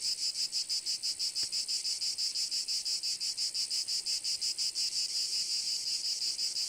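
Insect sound effect of a cicada or cricket: a loud, steady high-pitched buzzing trill that pulses rapidly and evenly throughout, heard alone at close range.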